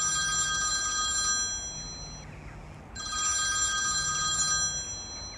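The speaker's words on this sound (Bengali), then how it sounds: "ক্রিং ক্রিং ক্রিং ক্রিং শব্দে ফোনটা তারস্বরে বেজে উঠল" A telephone rings loudly in repeated electronic trill bursts, two long rings separated by a brief pause, alone with no talk.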